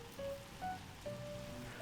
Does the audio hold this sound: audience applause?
no